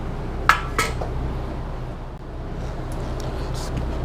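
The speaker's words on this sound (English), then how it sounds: "Place my screws in a metal magnetic bowl so I can keep up with my screws." Screws drop into a metal magnetic bowl, two quick metallic clinks close by, followed by quiet room noise.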